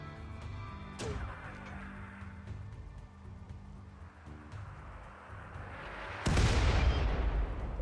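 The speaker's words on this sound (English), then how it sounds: "Oh, I hate mortars." Mortar fire in the video game RimWorld, with game sound effects in the background, then a loud, close explosive blast near the end and a sharp impact earlier.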